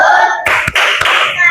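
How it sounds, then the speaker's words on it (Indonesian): Classmates clap for a student group during a school class performance assessment, a dense burst of hand claps with a couple of sharper thumps, steady and fairly loud throughout. "Tepuk tangan buat kelompok 3"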